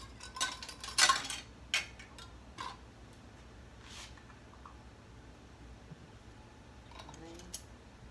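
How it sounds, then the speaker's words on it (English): A metal lid is set onto a pot of homemade pear honey, with a couple of sharp clinks near the start and a fainter tap later, over a quiet kitchen background. "put your lid on"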